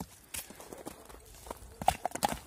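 Horse hooves walking on the ground, a handful of quiet, uneven clip-clop steps with a brief cluster of sharper hoofbeats near the end, under faint background noise.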